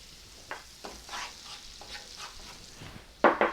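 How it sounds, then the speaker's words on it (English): Sugar poured into melted butter in a hot pan is scraped and stirred in close, irregular strokes, with soft sizzling beneath and a sharper scrape near the end. "All right, butter's about melted. In goes the sugar."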